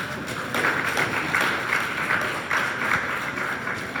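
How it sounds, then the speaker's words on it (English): An audience applauds a speaker at a family reunion, a steady patter of many hands clapping at moderate distance that carries on for several seconds. "Let's give Tom a round of applause"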